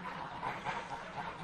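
A flock of farm geese, part of a goose-breeding operation of about 200 birds, honk and cackle in a steady, dense chorus at moderate distance, with no talking.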